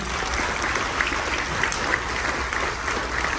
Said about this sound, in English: please give one more round of applause to all of our speakers here today